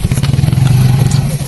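Enduro motorcycle engine on a climb toward a summit during a first riding class, a close, loud, low steady drone with rapid pulsing that wavers and sags as if losing power, with clattering underneath.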